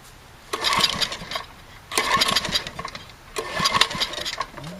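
A small carburetted engine on three-quarter choke is pull-started three times, each pull giving a brief loud sputtering burst that fails to catch, separated by short quiet gaps.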